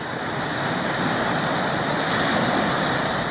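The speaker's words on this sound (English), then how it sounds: "It is really rough further out." Rough open sea running at a spring tide, waves and surf churning in a continuous loud roar with wind buffeting the microphone, no voices.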